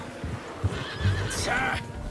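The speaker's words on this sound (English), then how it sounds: "Get that horse in line, Arthur." A horse in the video game Red Dead Redemption 2 neighs loudly, a rising then wavering whinny near the end, over low rumbling background and a few muffled thuds.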